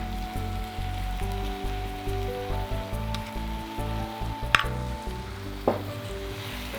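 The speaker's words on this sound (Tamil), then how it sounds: "இப்போ இந்த ஸ்டேஜில் கொஞ்சமாக நெய் போட்டுட்டு ஆஃப் பண்ணலாம்" Hot ghee added to a thick sago khoa burfi mixture in the pan gives a steady, close sizzle and crackle, with a few soft stirring knocks and clicks over the frying hiss.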